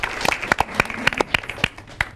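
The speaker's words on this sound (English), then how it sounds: "So big round of applause to the two of them." Sparse, uneven handclaps from a small live audience at a community TV show, a dozen or so sharp, close claps scattered irregularly rather than a full ovation.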